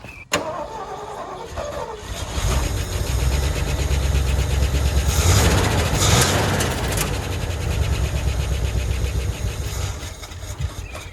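A Ford F-100 truck engine, run again after sitting over 20 years with a leaking accelerator pump, cranks and catches, then idles loud and close with rough, uneven revving surges, no talking.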